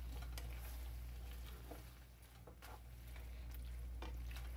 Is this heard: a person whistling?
no